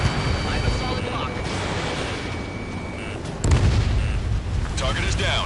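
Enemy tank fire and explosions rumble in a combat flight video game: continuous heavy booming and blasts, one loud hit partway through, with radio voices talking over the din.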